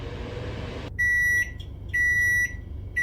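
A microwave oven beeps three times in an even rhythm, clear and close, after a low hum cuts off.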